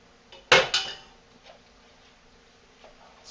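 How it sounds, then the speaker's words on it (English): Cooked noodles tipped into cheese sauce in a pan for mac and cheese pizza, a loud metallic clank followed by a second clatter, then faint soft scraping and a few light taps. "Put my noodles in here and stir it up until it gets all coated with cheese."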